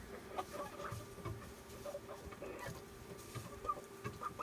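Chickens cluck softly in a nest box, faint scattered murmuring clucks and brief chirps over a low, busy background, with no talk.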